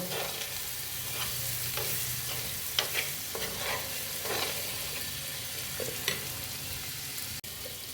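Toor dal thoran with chicken masala powder is stirred in a hot pan, giving a continuous sizzle with repeated scraping strokes of a spoon and small knocks against the pan.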